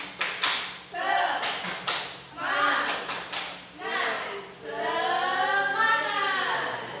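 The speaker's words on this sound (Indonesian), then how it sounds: "Tepuk semangat satu kali lagi" A class of Indonesian fifth-graders performs the 'tepuk semangat' spirit clap, rhythmic bursts of group clapping and taps alternating with children's chanting voices, loud and close in a classroom.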